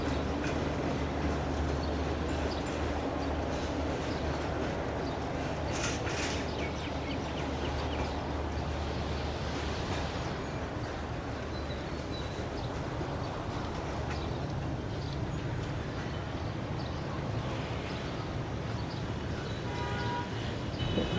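The nonstop Green Line Express rolls steadily past Chanesar Halt station in Karachi, a loud continuous rumble and wheel clatter with no speech.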